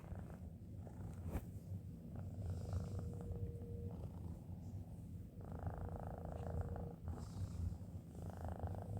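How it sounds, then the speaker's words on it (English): A domestic cat purrs steadily right beside the microphone, a low continuous rumble running through the whole stretch with faint background noise and no talking. "Sorry for the breathing in the background."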